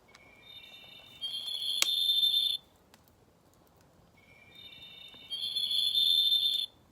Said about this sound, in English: The bird I want to show you is a Cedar Waxwing.